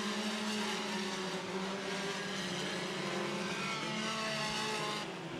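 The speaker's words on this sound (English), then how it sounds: "Side by side for that race lead, though, between Lear and DeVries through turns three and four." Sport compact race cars roaring around the Clay County Speedway dirt track, a steady loud drone of several engines held at high revs, sustained without a break and carrying on alone with no talk over it.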